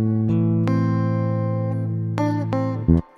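Clean, unprocessed guitar playing sustained harmonic chords that ring on for several seconds, with a few sharp plucked attacks and a final muted strum, close and alone with no talk.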